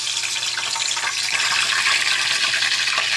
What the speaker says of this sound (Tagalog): Ayan na, piniprito na.